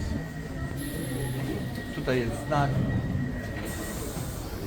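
A London Underground metro train rides along with a steady rumbling roar and brief squealing wheel whines midway, while a person talks over the noise.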